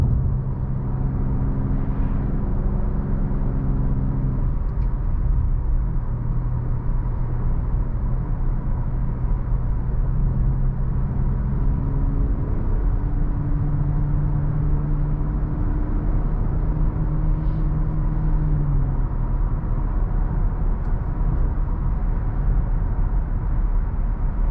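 A 2018 Acura TLX in Sport Plus mode holds its gears around 3,000 RPM, giving a steady engine drone under constant road rumble, with pitch stepping between gears.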